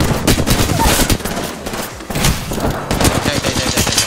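Rapid bursts of gunfire from a firefight in the Apex Legends video game, loud and dense in repeated volleys with brief gaps, near and continuous throughout.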